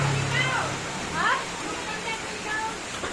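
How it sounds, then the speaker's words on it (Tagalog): Strong floodwater current rushes in a steady broadband roar after a week of nonstop rain, with a voice speaking briefly over it. "Ang lakas ng agos"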